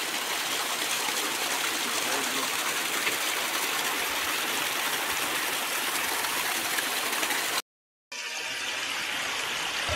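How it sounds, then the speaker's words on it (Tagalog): Spring water rushing steadily into a concrete intake box, a loud continuous gushing flow close by that breaks off briefly near the end before resuming. "Dito ay pinapapasok na namin ang tubig mula sa bukal papunta dito sa intake box number 1"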